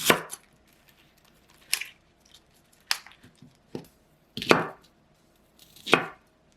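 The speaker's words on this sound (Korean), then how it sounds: "씻어놓은 팽이버섯은 반으로 잘라줄게요" Knife halving washed enoki mushrooms on a cutting board, six sharp separate chops spaced unevenly about a second apart, close and crisp against near silence.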